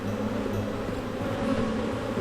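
Honey bees swarm around an open, heavily populated beehive on a farm, a close, continuous low buzzing hum that stays steady throughout.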